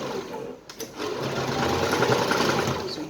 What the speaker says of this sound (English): So you back stitch at that point.